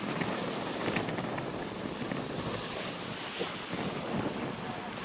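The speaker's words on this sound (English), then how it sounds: "As the waves bash it." Storm waves pound the Canadian coast in strong wind, a steady, loud roar of surf and wind buffeting the microphone throughout, with no talking.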